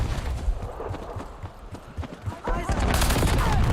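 A burst of gunfire in the Marvel Rivals video game, rapid sharp shots at close range in a dense volley, the loudest and most constant stretch coming toward the end.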